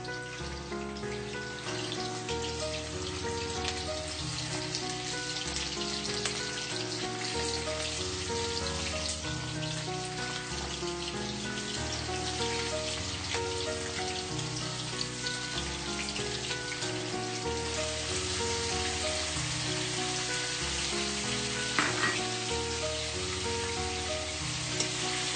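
Paneer cubes frying in hot oil, a dense steady sizzle and crackle that stays even throughout, close and fairly loud, with no voices.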